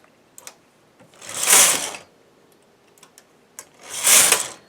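The carriage of a 4.5 mm knitting machine slides across the needle bed in two loud swishing passes, each about a second long, with small mechanical clicks and taps in between and no talking.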